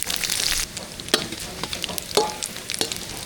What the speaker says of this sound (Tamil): வரமிளகாய் சேர்த்துக்கலாம்